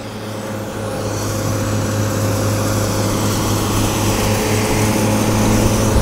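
A hammer mill grinds shelled corn with a dense, continuous mechanical roar and a steady motor hum, loud and unbroken throughout, with no talking.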